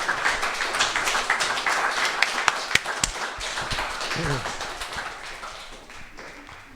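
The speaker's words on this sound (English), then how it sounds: "So let's give John a really nice round of applause" Church congregation applauding John on Father's Day, a mix of many hands clapping with a few sharp individual claps standing out, plus brief voices in the room, fading gradually.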